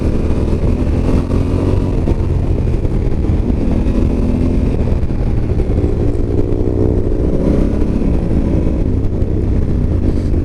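A 2021 Africa Twin 1100 motorcycle accelerates hard on a twisting mountain road. The engine drones steadily and loudly for the whole stretch, with rising and falling harmonics as the revs climb, heavy wind rumble underneath, and no voices.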